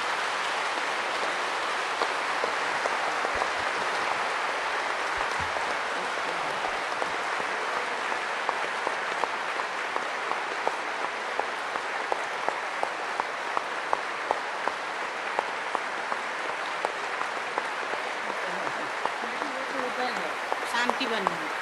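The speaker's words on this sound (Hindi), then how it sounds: "अपने अपने स्थान पर खड़े होकर जरा दादी के लिए ताली" A large audience stands and applauds for Dadi at a spiritual gathering, dense continuous clapping with sharper individual claps poking through throughout.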